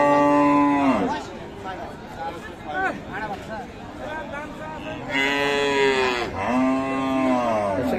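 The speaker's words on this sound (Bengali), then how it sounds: "এই যে এখানে একটা কিন্তু বাচ্চাকে দেখছি আমরা" A Friesian bull calf moos repeatedly, loud and close, at the Aftabganj cattle market in Dinajpur, with people's voices and market chatter underneath.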